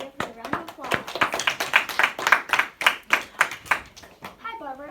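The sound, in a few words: round of applause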